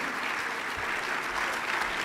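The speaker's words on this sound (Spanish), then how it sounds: "Un fuerte aplauso en Veracruz." Audience applause at a sports forum at Televisa Veracruz welcoming a guest, a steady dense wash of clapping with no talk over it.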